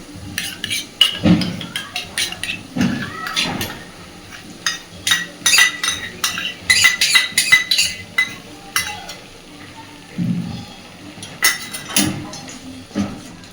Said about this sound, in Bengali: টক দইটা দিয়ে আবারও একটু ভালোভাবে নাড়াচাড়া করে দিচ্ছি